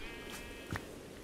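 A sheep in RLCraft, the modded Minecraft game, gives one short, faint bleat in a quiet moment, with no talk over it.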